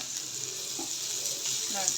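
Fish frying in a partly covered pan, a steady close sizzle and crackle of hot oil holding at an even level throughout, with faint stirring or scraping underneath.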